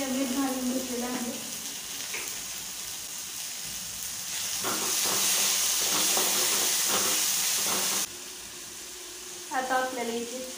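Tomatoes with salt dropped onto garlic already frying in a pan for tur dal, a broad steady sizzle that swells louder midway, with someone talking at the start and end.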